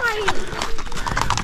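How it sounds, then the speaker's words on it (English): A big horse at a campsite clip-clops on its hooves close by and gives a brief whinny, with people talking over the sounds. "Oh, they're a big horse."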